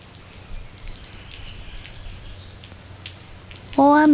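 Heavy rain falls steadily on a street in Taipei, a dense even patter with a few sharper drops, before a loud tonal sound cuts in at the end.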